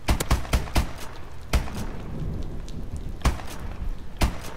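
Gunfire in Call of Duty Advanced Warfare, with sharp shots in quick clusters and then single cracks spaced apart over a soft background hiss, fairly loud, with no voices.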